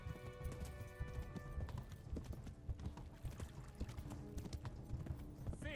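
Hooves clip-clop in a steady rhythm from a horse in the medieval game Kingdom Come: Deliverance, layered over a busy game soundscape with tonal music, and a short whinny rises near the end.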